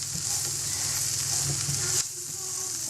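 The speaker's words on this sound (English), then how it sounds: "We add our flour and just mix it through, coats all the vegetables." Flour being stirred into vegetables cooking in a pan for a chicken pot pie, a steady close sizzle with scraping stirs that quiets suddenly after two seconds.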